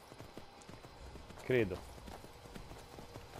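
Horse hooves clip-clop in a brief burst in Skyrim, loud against a quiet background, with a few words of speech from a man nearby.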